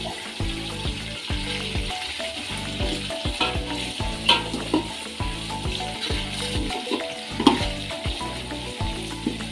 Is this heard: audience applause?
no